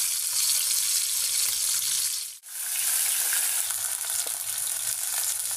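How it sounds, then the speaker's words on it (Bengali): Fish sizzling steadily in hot oil in a pan, a loud continuous frying hiss with a brief break midway, no talking. "মাছটা ভেজে নিচ্ছি।"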